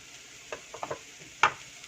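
Spice masalas are stirred into a sizzling pot for a Brussels sprouts and black channa pulao, giving a few soft scraping stirs and one sharper sizzling clatter near the end, close and fairly quiet.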